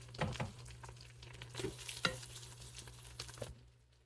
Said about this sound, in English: Take a wooden spoon here, and because I can scrape that bottom a lot easier with it.